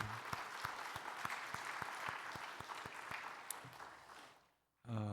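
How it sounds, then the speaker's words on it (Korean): Sustained applause from a church congregation during a Sunday worship service, steady dense clapping that runs for about four seconds before fading out, followed by a voice beginning to speak. "축복하고 격려하는 박수 한번 하십시다"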